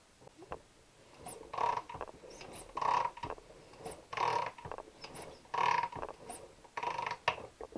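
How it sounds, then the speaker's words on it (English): Ratchet with an extension turning a bolt during a Triumph T120 engine rebuild: five or six bursts of rapid clicking, each about half a second long and evenly spaced, close and clear with no talk. "Get extension and put my ratchet on."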